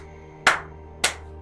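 Two sharp hand claps ring out about half a second apart, loud and close, each with a quick decay over a faint steady hum.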